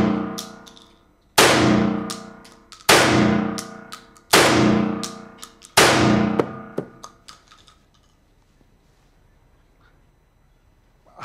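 Five loud, evenly spaced blasts from a Remington Tac 13 12-gauge firearm, each with a ringing tail, followed by quiet handling clicks.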